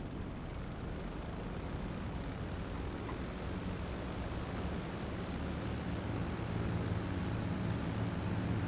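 A jet aircraft takes off in Grand Theft Auto V with a steady, dense engine roar that swells slightly toward the end, and no talk.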